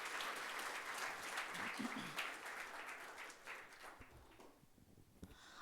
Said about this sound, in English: Can we have a huge round of applause once again for them?